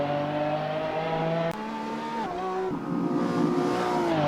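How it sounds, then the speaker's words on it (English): A race car at a hillclimb event rounds a tight chicane, its engine holding steady harmonic tones, dipping briefly as it shifts and then climbing again as it accelerates out, loud and close throughout with no talk. "Through the chicane, a lot slower than those open wheelers we've seen recently"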